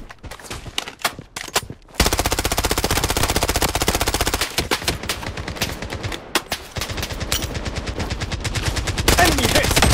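Gunfire in the video game Blood Strike: scattered single shots, then long rapid automatic bursts, loud and close, with brief pauses between volleys and faint game voices.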